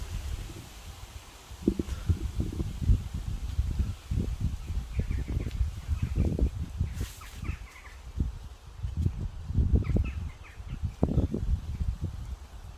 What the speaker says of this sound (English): Oh, it's starting to get windy here.